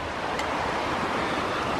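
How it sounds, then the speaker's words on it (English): Fagan Creek at Fagan Springs Trail in Monte Sano Nature Preserve, Alabama, flowing as a steady broadband rush of water, close and continuous, with no voices. "The stream going off to the left is just a little side stream."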